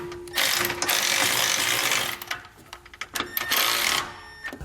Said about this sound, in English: we can then go in with a 19mm socket and wrench,